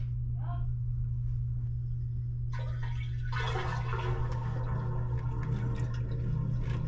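A low steady hum, then water starts rushing and gurgling away down a drain into a clogged commercial sewage ejector pump partway through, growing louder and continuing to the end.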